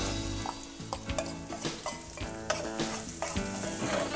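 Onion sautéing with bell pepper and tomato in a pan for black rice, a close, continuous sizzle broken by repeated stirring scrapes, heard with music running underneath.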